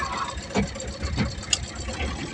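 A stopped tractor's engine idles steadily at close range, a low continuous rumble with a few brief knocks and a short sharp click.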